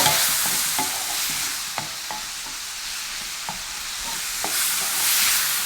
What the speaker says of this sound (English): now I'm going to add my prawns. And just quick fry them.